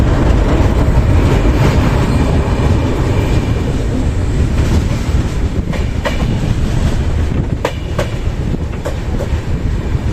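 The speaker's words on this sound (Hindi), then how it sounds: "फाइनली ट्रेन हमारी एंटर करते हुए प्रयागराज जंक्शन में" The Jharkhand Swarna Jayanti Express rolls into Prayagraj Junction with a loud, constant rumble of railcars. Scattered clicks and clacks from the wheels rise over the noise near the end.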